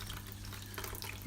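Aquarium water being drained and changed into a bucket in a reptile room: a steady, close rush of running, splashing water with no pauses and no voices.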